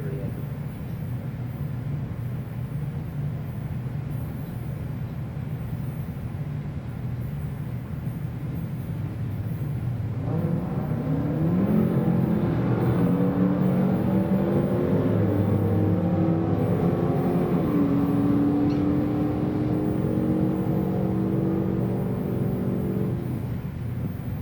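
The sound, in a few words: drag race of a 40 Chevy against a 2016 Hellcat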